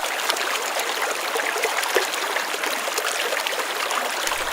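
Water flows steadily through a shallow rivulet beneath a highway beside a concrete embankment, a continuous close, bright trickling rush with no voices.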